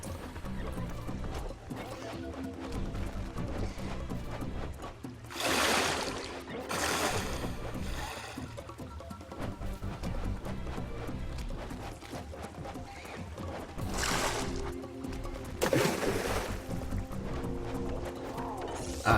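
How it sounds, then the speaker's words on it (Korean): Loud rushing water effects from the retro side-scrolling game Joe & Mac (Caveman Ninja) swell in two bursts over steady chiptune game music and other effects, nearly drowning them out. "갑자기 물소리가 크게 들리죠."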